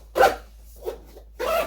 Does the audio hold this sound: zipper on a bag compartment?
yes